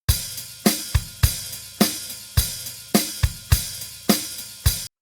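Drum mix with conventional parallel compression: an even, repeating kick-and-snare pattern of sharp, dense hits with sustained tails, heard on its own with no talking.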